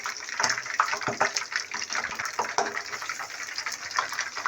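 A bread roll soaked in flour slurry goes into a pan, a steady wet sizzling and bubbling hiss with small splashy pops throughout, fairly loud and continuous with no talk.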